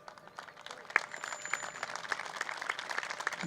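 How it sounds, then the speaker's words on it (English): A crowd at a high school softball game applauds an injured player, a steady spatter of scattered hand claps that sounds moderately distant and holds for a few seconds. "she's getting a nice hand from the audience here, the crowd"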